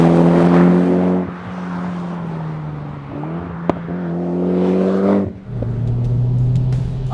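A tuned Mitsubishi Evo X engine revs up hard through several gears, the pitch climbing and dropping between shifts, loud and close with a brief sharp pop midway.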